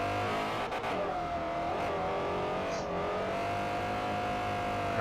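A race car engine droning at steady high revs during drifting on the Fujimi Kaido course in Forza Motorsport 4, continuous and fairly loud with slight pitch shifts through a gear change.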